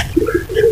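Pigeons coo softly in a backyard coop as they return to their boxes, giving a few low, rolling calls close by with a faint background hum.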